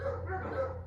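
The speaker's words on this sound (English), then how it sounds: "besides these loud dogs in the background" Dogs in Costa Rica bark and howl in a drawn-out, moderately loud chorus, slightly distant, over a low background hum.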